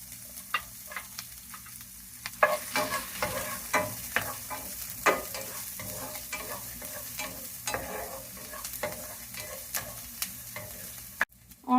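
Onions and green chillies frying with mustard and cumin seeds in a pan, a soft steady sizzle broken by repeated spatula scrapes and taps as the mixture is stirred, with a sharper knock near the end.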